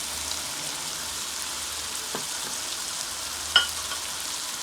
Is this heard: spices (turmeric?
yes